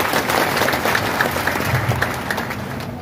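An indoor audience at a direct selling company event breaks into loud, steady applause, dense clapping from many hands sustained throughout and easing slightly toward the end.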